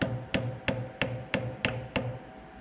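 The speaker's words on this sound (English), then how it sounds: "So I like to kind of use my brass hammer so I don't accidentally, damage the shaft here." A brass hammer taps a speedometer drive gear off the output shaft of a 4-speed Toploader transmission from a 1965 Mustang, giving seven sharp metallic knocks at an even rhythm about a third of a second apart, close and alone.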